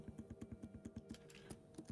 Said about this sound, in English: I hear the typing.